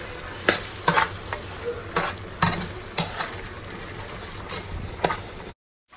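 Spaghetti sauce with onion and pepper sizzles and fries in a pot, with a steady crackling hiss broken by repeated scraping stirs, close and alone, ending abruptly.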